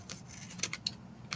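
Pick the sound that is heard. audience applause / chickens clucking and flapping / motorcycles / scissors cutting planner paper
scissors cutting planner paper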